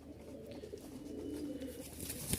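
Soft cooing from Giribaz high-flying pigeons in Rajshahi, a short, low, murmuring call heard close by with faint background rustle.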